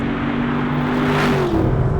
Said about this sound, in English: I feel like I'm being completely drowned out by the sound of this car